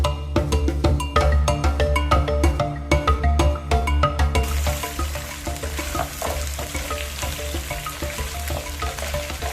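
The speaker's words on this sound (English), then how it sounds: "I like deep frying it to a golden brown." Boiled, softened meat deep frying in oil in a home Kenyan kitchen, a continuous loud sizzle and crackle with rapid stirring clatters early on, settling into a dense steady hiss.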